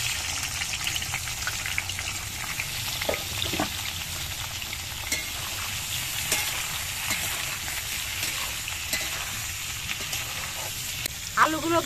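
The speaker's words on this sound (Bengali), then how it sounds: "প্রথমেই আমি কড়াইতে সর্ষের তেল দিয়ে আলুগুলোকে ভেজে নিচ্ছি।" Potatoes fry in mustard oil in a wok, giving a steady, close sizzle with occasional stirring clinks and scrapes, continuous throughout and slightly louder near the end.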